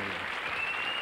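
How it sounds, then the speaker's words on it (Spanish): Applause from a TV talk-show studio audience for a guest, a dense, steady wash of clapping filling the short moment without talk. "¡Un aplauso para Keke!"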